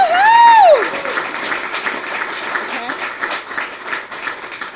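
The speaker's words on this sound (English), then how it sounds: "I think that deserves an applause." An audience bursts into sustained clapping at a talk on family court, with an opening whoop cutting through before the applause continues evenly at moderate loudness.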